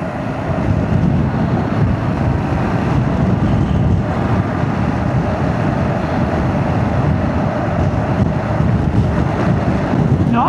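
Strong gusting wind roars and buffets steadily against a rider's helmet on a moving motorcycle, a loud, continuous low rushing that never lets up.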